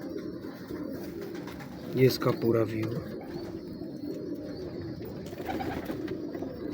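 Pigeons of a single breed at a breeder's loft coo softly and steadily beneath someone talking nearby, with a brief louder burst of activity partway through.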